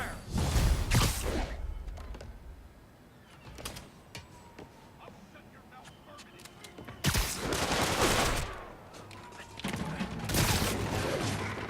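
Gunfire in Marvel's Spider-Man (2018) video game, loud bursts of automatic fire at the start and again near the end, separated by a quieter stretch with scattered clicks and impacts.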